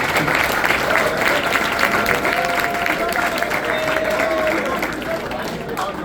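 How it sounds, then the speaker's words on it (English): A banquet crowd at a high school basketball dinner gives a sustained round of applause for the freshman players, dense steady clapping filling the room for several seconds with faint voices mixed in. "So let's give the freshmen a round of applause."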